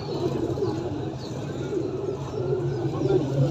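Pigeons coo steadily in low, throaty, overlapping calls at a pigeon sale in Pakistan, a continuous close murmur from the birds with no talking.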